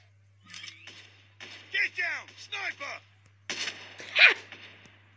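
Sniper rifle gunfire in the mobile shooter Call of Duty Mobile, heard as a few sharp cracks and bursts of game sound, with someone talking excitedly in Czech over the action.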